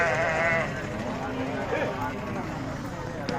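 Goats bleating at a crowded Lahore livestock market, several wavering cries near and loud at first then fading into busy crowd chatter, with people talking throughout.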